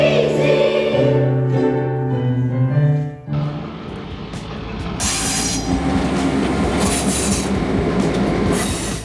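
A train rolls along the rails with a steady loud rumble and rhythmic clatter, first with a tonal hum, then a broader, noisier roar as it runs on continuously.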